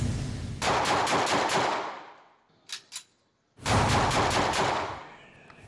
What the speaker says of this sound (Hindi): मुलजिम ने वीडियो रिकॉर्ड कराकर 5 गोलियां फायर की।